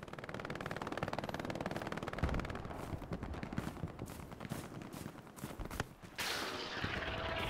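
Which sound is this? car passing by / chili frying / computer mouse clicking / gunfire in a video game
gunfire in a video game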